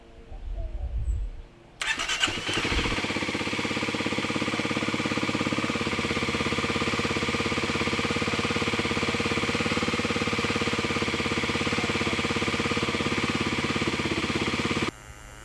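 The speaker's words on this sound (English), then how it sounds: "The higher idle speed at cold usually floats around 2200 RPM or so." A Kawasaki KLX300 dirt bike with a freshly flashed ECU starts up after a brief quiet moment. It settles into a steady, fast cold idle that drones on evenly and close for the rest of the clip.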